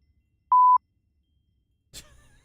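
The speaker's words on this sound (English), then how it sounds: "Instant sensor beep." A single short, pure electronic beep, clean and loud against silence, followed by a brief soft rustle.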